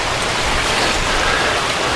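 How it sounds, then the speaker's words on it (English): Rain falling on an RV, a dense, steady hiss of drops drumming on the surface, loud and continuous with no talk. "But it's raining today."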